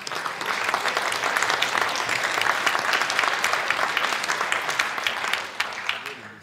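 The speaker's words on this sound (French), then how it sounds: "Vous pouvez les applaudir." A conference audience breaks into sustained applause, a dense wash of many hands clapping at steady volume for about six seconds before tapering off.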